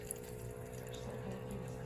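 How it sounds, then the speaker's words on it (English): A Temu non-cycling cat waterer pumps 120 milliliters of water into its tray, a faint, steady trickle and low pump hum that runs without a break. "pumping 120 milliliters of water into the tray."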